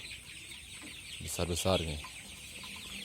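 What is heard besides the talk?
young native chickens clucking, 22 days old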